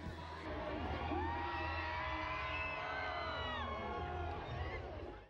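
A large crowd cheers and whoops loudly as retired Jamaican sprinter Usain Bolt races a tuk-tuk, sustained roaring with high shouts and excited yells layered throughout.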